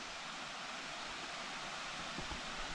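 A distant waterfall heard from a forest trail, a steady, even rushing hiss with no breaks and no voices.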